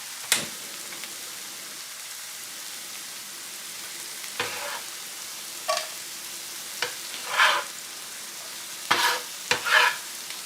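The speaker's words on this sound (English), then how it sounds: "when you're sauteing onions for a sandwich" Onions sauteing in vegetable oil in a pan, a soft steady sizzle with a few sharp utensil scrapes and clicks scattered across it, no voices.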